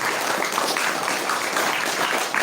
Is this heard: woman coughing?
no